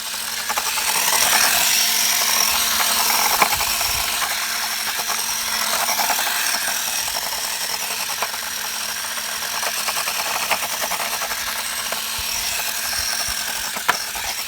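The small electric motor of an HBX 2188A 1/18 scale RC drift car whines at full throttle, a steady, high-pitched buzz that holds for a long stretch with slight wavering and occasional ticks.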